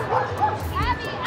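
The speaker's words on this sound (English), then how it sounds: "There's a lot of dogs out here." Several dogs bark and yip at an outdoor dog park, including French bulldogs, with a busy mix of short barks and whimpers near and farther off, under a background murmur of people chatting.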